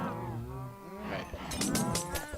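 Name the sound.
cows mooing in a farming video game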